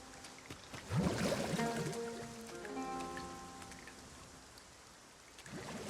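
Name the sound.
rain falling in the video game Dragon's Dogma 2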